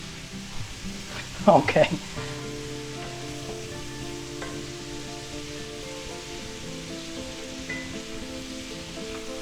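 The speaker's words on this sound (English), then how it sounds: "let's use a wooden spoon. Makes less noise, you know." Shrimp chow mein noodles stirred with a wooden spoon in a hot pan, a brief burst of scraping and tossing near the start over a steady low sizzle of frying, with a short word spoken.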